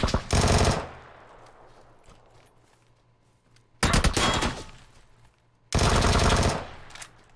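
PUBG gunfire: three loud bursts of rapid automatic fire, each lasting under a second, separated by quiet gaps with faint game ambience and tails of echo.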